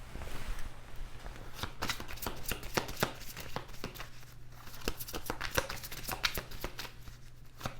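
Tarot cards from a Healing Heart deck being shuffled by hand, a steady run of crisp riffling snaps and slides up close over a low background hum, with no talking.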